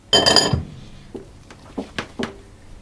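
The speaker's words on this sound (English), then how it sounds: "Just want to get this excess off the whisk." A metal whisk is knocked against a mixing bowl of spice cake batter, a loud clattering burst followed by several sharper, fainter taps spaced apart.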